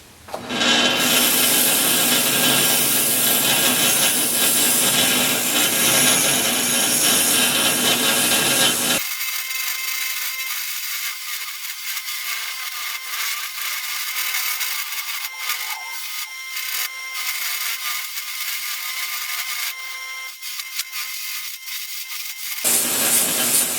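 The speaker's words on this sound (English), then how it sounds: "we're going to use the mop sander here to try to get some roundness to this" A mop sander rounds over a small wooden bud vase, a loud steady whirring abrasive rub that runs continuously, dipping slightly partway through and swelling again near the end, with no talking.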